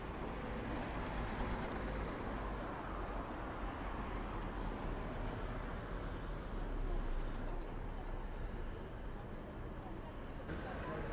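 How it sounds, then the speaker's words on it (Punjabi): Pigeons in Victoria Square, Birmingham, cooing faintly amid a wash of city traffic and voices in the open square. "ਇਹ ਦੇਖੋ ਕਬੂਤਰ ਵੀ ਨਾਲ ਹੀ ਨੇ।"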